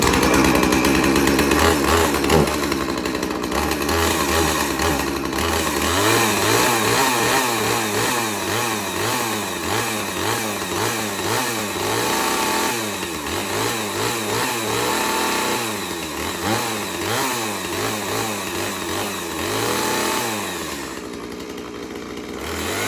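A 20-inch chainsaw, either a Husqvarna 450 or a 2002 Salem Master Pro, runs loud and close, revving up and down repeatedly in rising and falling surges with no talking.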